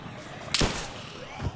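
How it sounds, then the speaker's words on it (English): Zombies in DayZ pounding on a front door: one loud, sharp slam followed by a softer thump about a second later, close by. "They're banging on it."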